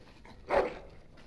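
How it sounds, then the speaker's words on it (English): A dog in the video game Dragon Age: Origins gives a single short bark with a whimpering edge, close and clear over a faint background hum. "Bloody dog."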